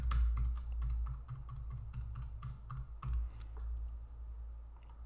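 Rapid keystrokes on a computer keyboard while entering a username and password, a steady burst of close, crisp clicks over a low room hum, with a brief pause before typing resumes.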